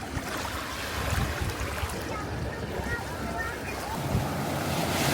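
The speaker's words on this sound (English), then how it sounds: "here is the vast," Ocean waves wash continuously against a rocky shore on Zhoushan island, a steady roar of surf mixed with gusty wind buffeting the microphone, and a voice faintly present.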